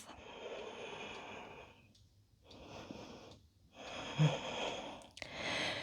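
Deep yoga breaths are taken while holding a pose in an intermediate flow: four heavy, airy inhales and exhales follow one another closely, near and fairly quiet, with no talking.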